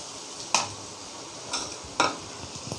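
Spice paste fries in oil in a pan for bottle-gourd kofta gravy, a steady close sizzle broken by a few sharp spoon scrapes against the pan.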